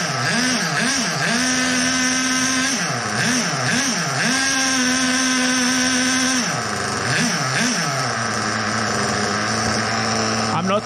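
A HoBao Hyper VS2 nitro RC car engine idles steadily and loudly up close, its pitch rising and falling in short revving wobbles before settling again, with a constant buzzing drone throughout.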